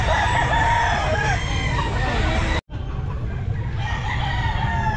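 A bullstag rooster crows loudly at a busy Sunday pet market, its long calls running through crowd noise and nearby chatter, cut by a brief silent gap.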